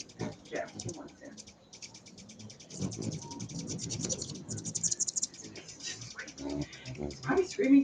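Hummingbirds at a feeder at dusk, a dense stream of rapid high chirps and squeaks close by, with speech and scratchy rustling mixed in.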